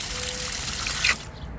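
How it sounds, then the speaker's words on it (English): Water spraying from a garden hose run by a Diivoo watering timer, a steady hiss close by that cuts off abruptly near the end. "Just gotta push this button here, push it, and the water comes out,"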